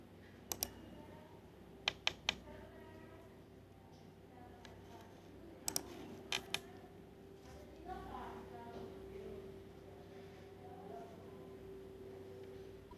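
Short bursts of computer keyboard typing while entering MATLAB commands: quick clustered key clicks in a few groups, fairly close, over a steady low hum and faint background.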